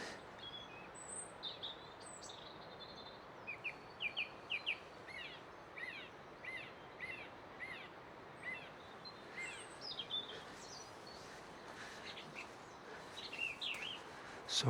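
Two songbirds sing together outdoors, a robin's thin warbling phrases interleaved with a song thrush's loud, repeated notes, over a steady background hiss.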